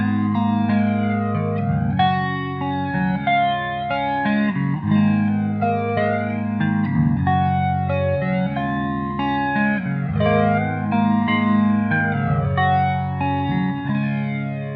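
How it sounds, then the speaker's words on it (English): Clean electric guitar run through a flanger pedal plays a sustained, chiming chord progression, sweeping and swirling with echo and chorus-like shimmer, loud and alone without any voice. "You'll hear the flanger kick in when the vocals come in with Bury Me Softly."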